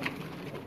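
A pigeon coos in a champion racing-pigeon loft, a soft low murmur running steadily through the short moment at close range, with no voices present.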